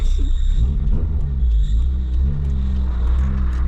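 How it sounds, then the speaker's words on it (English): Vauxhall Nova 2.0 8v engine running with a squeaky alternator belt: a steady, close low rumble carrying a faint thin high squeal throughout. "Squeaky alternator belt."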